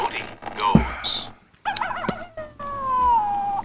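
A human voice imitates a coyote, making a wavering, yipping howl in several bursts with a long sliding wail at the end, clear and close.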